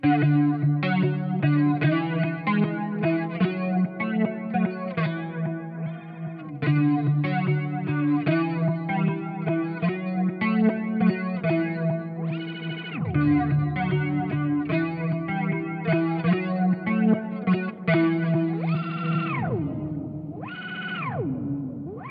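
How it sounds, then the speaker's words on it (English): Electric guitar chords drenched in Ibanez AD150 delay and reverb, echoing repeats and a washy tail, with a few pitch-bending swoops near the end. "It's an old Ibanez AD150 delay, and I also added a whole bunch of reverb from the Captor X"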